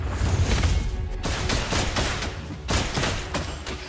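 Uzi gunfire in a mobile shooter game, a dense run of rapid automatic shots in bursts with brief pauses, loud and close, layered over game ambience with no voices.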